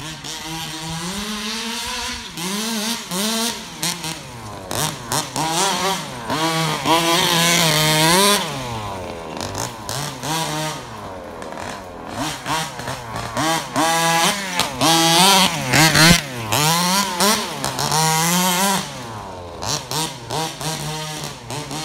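An HPI Baja 5T RC car with a modified Zenoah engine drives around, its small two-stroke buzzing and wailing through rapid rises and drops in pitch, close and loud throughout.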